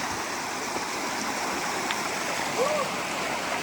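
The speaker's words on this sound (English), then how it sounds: "looks like this is where we have to get down into the river" Steady rushing of a river stream flowing through the Kanarra Falls slot canyon in Utah, a continuous broad wash of water close by, with a brief higher splash or tone near the end.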